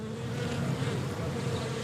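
A continuous drone of honeybees around hives on a London rooftop, a thick even hum at close range with no talking over it.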